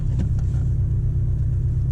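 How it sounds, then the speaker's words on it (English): Porsche 718 Boxster GTS rev-matching as it drops into gear on approach to a light, a steady close low engine rumble with no clear rise in revs. "As soon as I put it into gear, it rev matches and makes a perfect smooth shift."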